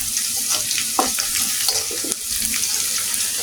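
Ingredients for a chicken roast fry in a pan with a dense, steady sizzle and occasional stirring knocks, close and fairly loud, without any talking.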